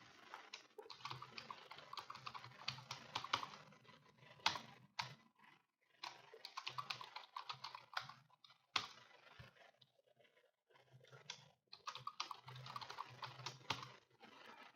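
Fingers type a password on a computer keyboard in quick bursts of soft key clicks, separated by brief pauses, quiet and close, with no voices.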